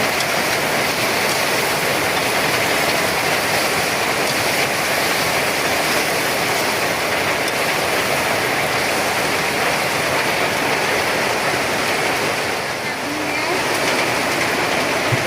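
Heavy rain pours steadily and loudly on a rural home during a rainy day, a dense, unbroken roar that fills the whole stretch with no pause.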